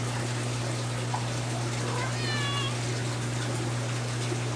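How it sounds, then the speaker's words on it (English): A female cat gives a short, faint meow in a fish room, nearly buried under a steady loud hum of aquarium equipment and rushing water. "That's my female cat who always does this."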